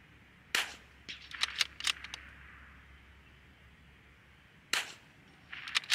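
Several sharp 22LR rifle shots cracking outdoors at egg targets, a cluster of quick reports early on followed by a pause, then a few more near the end; no talk.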